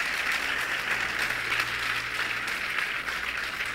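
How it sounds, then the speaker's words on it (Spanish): A church congregation applauds steadily throughout, a dense, even wash of clapping from many hands that neither swells nor fades, heard on its own with no voices over it. "Un fuerte aplauso, ¿verdad?"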